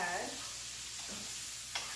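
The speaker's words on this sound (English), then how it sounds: "I'm gonna go ahead, give that a stir." Chicken, eggplant and green pepper stirred in a pan, a faint sizzle with soft scraping strokes at the start and a small clink near the end.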